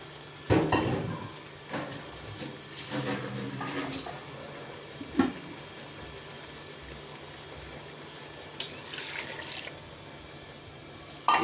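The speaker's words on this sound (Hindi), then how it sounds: "एक गिलास पानी डाल दिया।" A glass of water is poured into a cooking pot of chopped tinde (apple gourd) in a home kitchen, with short splashing bursts followed by quieter sloshing and a low background hum.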